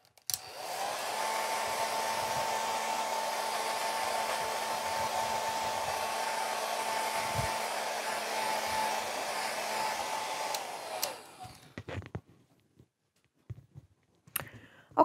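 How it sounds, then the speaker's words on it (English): A hair dryer blows loudly and steadily for about eleven seconds while drying watercolor paper, then switches off, leaving a few faint clicks and handling sounds. "my hair dryer and blow that dry"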